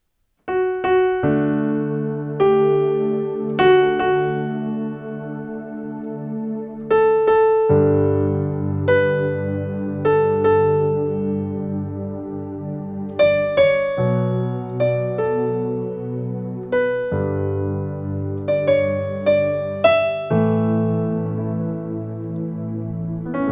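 A solo piano plays the intro of the gospel song "God of Love" by Loveworld Singers, a gentle melody over sustained bass chords, notes struck clearly and ringing, unfolding at a relaxed pace without any voices.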